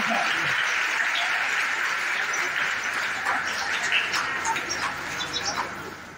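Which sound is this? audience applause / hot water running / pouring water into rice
audience applause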